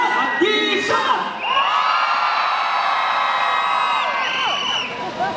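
A concert audience screams and cheers at full volume, a dense crowd roar of high shrill whoops and sustained shouting that swells and holds loudly throughout.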